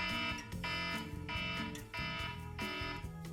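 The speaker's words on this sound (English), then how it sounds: "this is my new wake up alarm" A harsh electronic wake-up alarm tone blares in repeating bursts of sustained buzzing chords, loud and close, with brief gaps between cycles.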